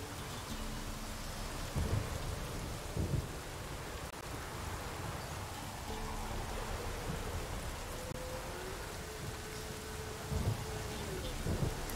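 Thunderstorm in The Witcher 3: steady heavy rain hisses throughout while several deep thunder rumbles and cracks roll in, near and loud at moments, with no one speaking.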